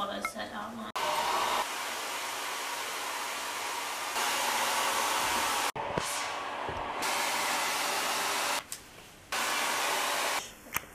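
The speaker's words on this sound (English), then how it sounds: "Do you want me to get a hairdryer?" A hair dryer blows with a loud, steady rushing hiss during late-night painting with flatmates. It cuts off and restarts several times with short pauses in between.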